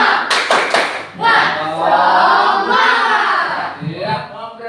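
A classroom of students does a rhythmic spirit clap, a quick patterned burst of loud claps followed by the group chanting together in unison, close and lively.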